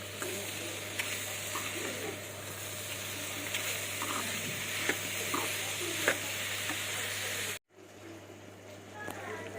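Grated carrot and jaggery stirred in a hot pan, a continuous close sizzle with scraping stir strokes that cut off abruptly near the end.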